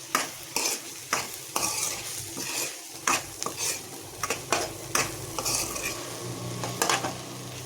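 A beetroot laddu mixture with almonds is stirred in a pan, with repeated scraping strokes and clinks of a utensil against metal over a soft sizzle. The sound is close and continues steadily.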